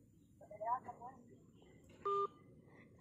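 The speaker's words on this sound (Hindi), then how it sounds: "अभी हमने जैसे आयरा पे फोन किया था, मैं मतलब उसकी टीचर बन के दोबारा कॉल करूंगी" A telephone keypad dialing tone sounds once, a short clean dual-tone beep, after a faint murmur of a voice in a quiet room.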